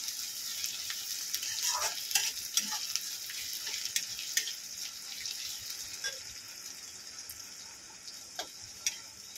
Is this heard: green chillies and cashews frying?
yes